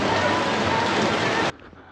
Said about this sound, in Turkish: Birden sağanak yağmur başladı.